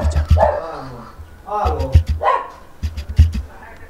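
A dog barks in several short, loud bursts inside a house, mixed with excited voices of people talking nearby.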